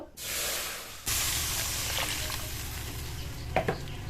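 Water poured into a hot pan of frying pointed gourd and masala for a vegetarian posto dish sets off a sudden loud hiss and sizzle that keeps spitting steadily, close up, with a few clinks near the end.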